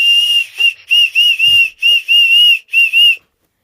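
A small toy whistle shrills in a series of sharp, close, loud blasts, about six in a row with short gaps and a slight warble, then stops.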